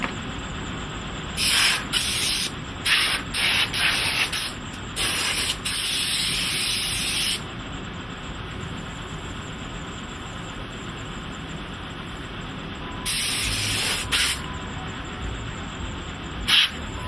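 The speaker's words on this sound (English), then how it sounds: "The molder constantly uses a compressed air nozzle to blow away loose sand." Compressed air nozzle blowing loose sand off a foundry mold in several sharp hissing bursts of varying length over a steady low industrial background hum.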